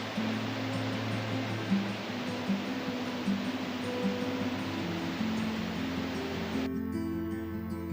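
A waterfall near Mt Baker in Washington rushes in a steady, dense broadband roar, close and loud, with faint tonal hums over it and a brief shift near the end.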